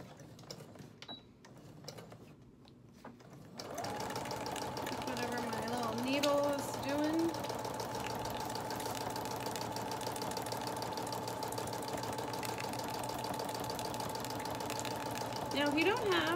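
A sewing machine stitching lace starts after a few seconds of quiet shuffling and then runs steadily, a close, continuous mechanical whir with rapid needle stitching.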